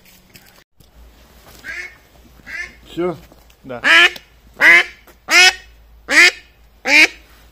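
A duck at a countryside dacha quacks close and loud, a run of about nine harsh calls that grow stronger and more evenly spaced, with a couple of short spoken words at the start.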